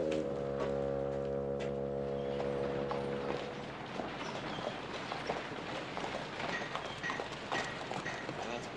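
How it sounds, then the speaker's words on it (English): Horse hooves clip-clop steadily at a trotting pace, close and clear, over a low droning hum that cuts out early on. "Pa's horse, all right."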